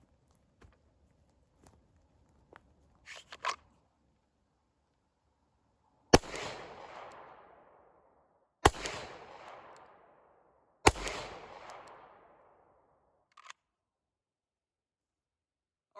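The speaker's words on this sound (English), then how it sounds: "going to do 3 shots." Three pistol shots ring out in slow, evenly spaced succession at an outdoor long-range shooting session, each a sharp crack followed by a long rolling echo, with a few faint clicks and handling noises before them.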